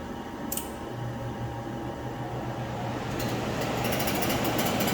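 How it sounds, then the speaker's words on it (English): A Comfortmaker ICP high efficiency furnace blower motor runs with a steady mechanical hum and airy rush that builds slightly as it ramps up, with light clicking and rattling over the drone and no talk. "So just watch how the blower will come on."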